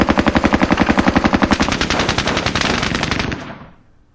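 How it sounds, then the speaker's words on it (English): Light machine gun in a World War video game fires a long, rapid, loud burst of evenly spaced shots, the rhythm blurring toward the end before the firing cuts off and fades out. "Light machine gun."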